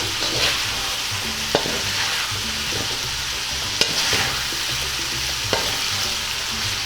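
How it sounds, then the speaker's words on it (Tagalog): Pork frying with tomato in a pan for Bicol Express, a steady close sizzle with a few sharp scrapes and clinks of the spoon as it is stirred, no talking. "Ngayon ay hahaluin na naman po natin."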